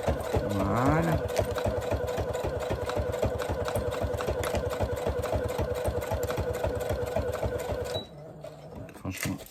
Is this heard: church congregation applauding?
no